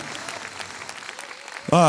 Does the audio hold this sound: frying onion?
no